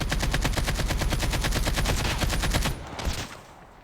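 Rapid automatic gunfire from COD Mobile Warzone, a dense rattling burst of shots at a steady fast rhythm, loud and close, cutting off abruptly near the end with a few trailing echoes.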